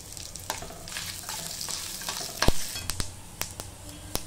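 Mustard seeds, asafoetida, urad dal and cumin tempering in hot oil for a moong dal and raw mango chutney, a steady close crackle and sizzle with sharp pops and spoon taps scattered throughout, no talking.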